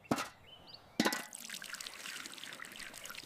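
A small seedling is watered with a quick splash, then a second pour becomes a steady light trickle and dribble of water that continues for a few seconds, close and gentle.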